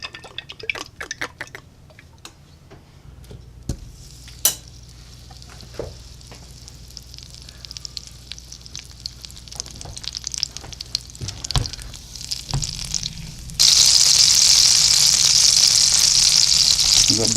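Butter and olive oil sizzle in a frying pan for chicken Marsala, a soft steady crackle with scattered pops and clinks, swelling abruptly into a loud, dense hiss near the end.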